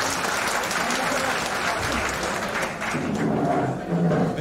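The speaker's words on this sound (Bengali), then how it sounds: "আমরা করতালির মাধ্যমে স্বাগত জানাই স্যারকে।" An audience at an engineers' foundation day meeting claps to welcome the chief guest, a country's home minister, with sustained, dense applause throughout and some crowd murmur.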